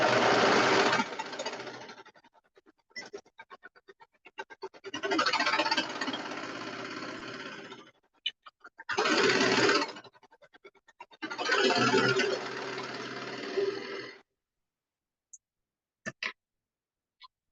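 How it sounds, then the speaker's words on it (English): A sewing machine sews a colour-block hoodie in four separate bursts of steady, close stitching, with short quiet gaps and faint handling clicks between runs, ending in near silence. "now I'm just going to sew"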